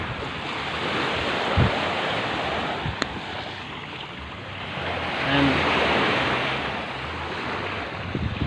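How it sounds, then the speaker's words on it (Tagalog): Strong ocean waves crash and roll onto a beach in San Juan, Batangas, a steady broad roar with surges and wind buffeting the microphone, no voices heard. "sobrang lakas ng alon dito"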